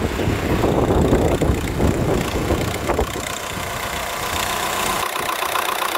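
A Volkswagen Golf 4 GTI TDI diesel engine idles steadily right after a turbo replacement, a continuous close mechanical hum that settles slightly quieter partway through, with no one speaking.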